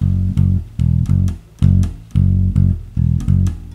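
An electric bass plays the verse line of a song in a rhythmic pattern of loud, deep plucked notes with short gaps, close and clear with no talking.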